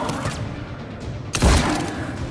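Gunfire in the Mass Effect 3 video game during a firefight, with a loud burst of shots and booms that strikes mid-clip and keeps rumbling afterward over a steady background din.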